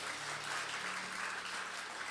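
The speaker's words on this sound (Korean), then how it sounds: "하나님께 영광의 박수 올려드리겠습니다" A church congregation claps together during a Sunday worship service, a steady, dense wash of applause that holds evenly throughout, with a faint low hum underneath.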